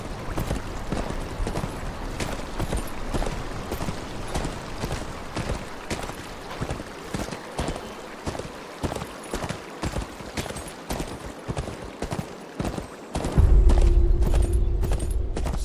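Steady clip-clop of horse hooves trotting at an even rhythm for a long stretch in the mobile game Game of Thrones: Kingsroad, then a low rumbling swell takes over near the end.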